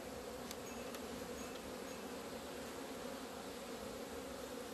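Honeybees buzzing inside a moldy hive box during wintering, a steady, dense, close hum that stays even throughout with no talk.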